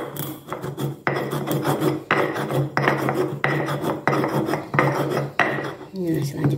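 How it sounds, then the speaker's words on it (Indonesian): Black pepper being ground to a paste by hand for crispy corn fritters, a rough repeated rasping scrape in regular strokes with short pauses between, close and steady. "saya akan haluskan dulu mericanya"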